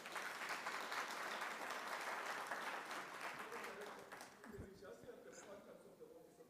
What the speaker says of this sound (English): can I ask DM to be given a round of applause